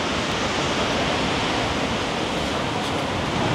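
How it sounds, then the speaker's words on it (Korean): Large ocean waves breaking at Da Nang beach, a loud continuous wash of surf roaring without pause, close by with no voices. "서핑은 우리나라 꿈에 비하면 진짜 엄청난 파도지, 여기는"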